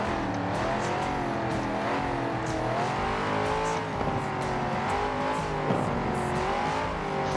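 A car engine in the video game Forza Horizon 4 revs steadily and loudly, its pitch rising and then dropping at several gear shifts, a continuous close drone with no voices over it.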